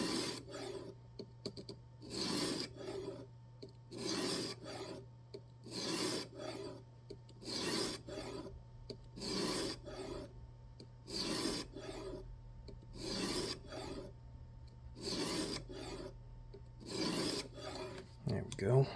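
A knife blade drawn across a 600 grit sharpening stone on a guided jig, slow regular rasping strokes about every second and a half, close and fairly quiet over a faint steady hum.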